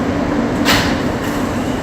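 An NYC subway R160 M local train bound for Myrtle Avenue runs with a loud, steady rumble and roar, a brief hissing burst rising partway through.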